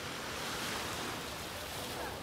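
Surf washes onto a clean beach behind a resort at Port Dickson, a soft, even hiss of breaking sea waves, faint and steady with a little wind and no talk.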